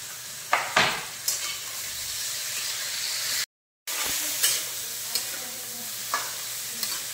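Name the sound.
eggplant pieces with salt frying and stirred in pan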